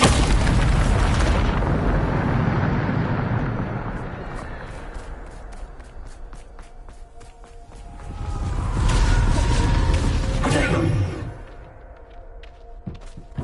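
A Bombarda spell goes off in Hogwarts Legacy with a loud, deep booming blast and rumbling debris, which fades and then swells again into a second heavy burst before dying away.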